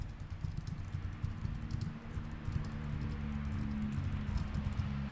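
Typing on a computer keyboard while entering a note in a list app, a steady stream of soft close keystrokes over a constant low background hum.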